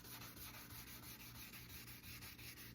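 Quiet, rhythmic scrubbing of light hand sanding on a guitar's finish with the soft side of the block, soft rapid back-and-forth strokes at an even pace over a faint steady hum.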